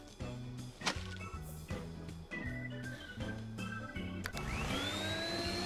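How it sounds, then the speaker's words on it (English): A vacuum cleaner runs in The Sims 4, a steady mechanical drone with repeating tonal game sounds and chimes layered over it, moderately loud with no talking. "Okay, vacuum then."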